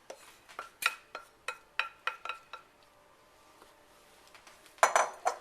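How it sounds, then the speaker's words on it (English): Cheddar cheese being stirred into a wild rice soup in a pot, a spoon clinking rhythmically against the sides about a dozen times, then a pause and a louder scraping clatter near the end. "I'm going to stir this cheese until it's all melted."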